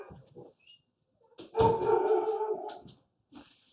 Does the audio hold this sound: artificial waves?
no